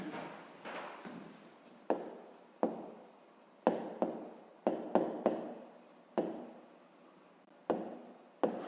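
Pen writing a fraction answer by hand on paper in a fifth-grade maths exercise, a series of close, quiet scratchy strokes and taps in short bursts with pauses between.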